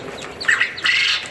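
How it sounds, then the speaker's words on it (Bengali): Two loud, harsh calls from a male quail on a farm in quick succession, close by, each a short raspy burst standing out against a quiet background. "পুরুষ পাখিগুলো প্রচুর জোরে ডাকাডাকি করে"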